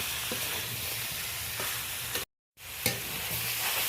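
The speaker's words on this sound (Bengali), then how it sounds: "2-4 বার হালকা হাতে ভালো করে নেড়ে নিচ্ছি" Prawns, fried potato and ridge gourd are gently stirred in a spice masala, with a steady close sizzle and soft scraping strokes. The sound drops out briefly midway, then the frying resumes.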